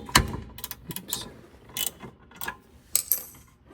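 A wrench works a nut on the rear brake of a 2015 Jetta TDI, giving soft, sparse ratcheting clicks and metallic taps in irregular bursts, quiet and close.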